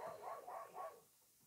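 A dog outside trying to get into the house barks or yips in a short run of four muffled calls, faint and distant, then falls quiet.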